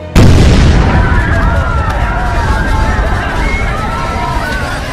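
A sudden, loud bomb blast booms out, then a heavy rumble lingers for several seconds beneath a murmuring crowd.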